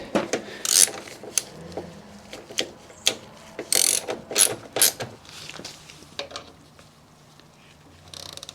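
A wrench tightens a suspension nut to 30 Nm on a BMW R100GS during a Wilbers suspension install, giving a series of close, sharp ratcheting clicks in short irregular bursts separated by pauses.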